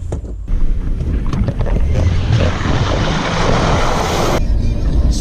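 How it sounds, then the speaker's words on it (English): A 4WD pushes through a small creek crossing in the Victorian High Country, giving a loud, continuous rush of water and engine noise with wind buffeting the microphone throughout. "I forgot we had a little creek crossing in this."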